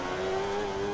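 A Sauber Formula 1 car in F1 2013 at Abu Dhabi slows under braking, its engine a steady, loud, high-pitched drone that holds nearly level with no one talking.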